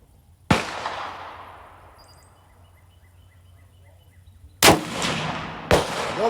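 Bergara B14HMR rifle fired during load testing outdoors: one sharp shot with a long rolling echo, then two more quick reports near the end, close and loud.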